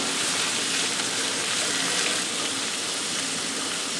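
Bacon, onions and minced garlic frying for feijoada, making a loud, steady, close crackling sizzle in the pan with no speech.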